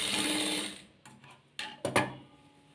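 A sewing machine stitches a blouse piece in short separate bursts: one longer run at the start, then several brief mechanical whirs and clicks that sound close and fairly quiet.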